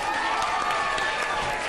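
A television morning show studio audience applauds and cheers, steady crowd clapping throughout with a busy, dense texture.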